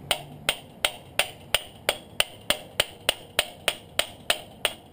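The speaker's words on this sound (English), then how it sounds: "And then I'm going to use this brass hammer and just tap this out." A brass hammer taps out a CV axle, giving about fourteen sharp, evenly spaced metallic strikes at a brisk, steady rhythm, each ringing briefly, close and alone.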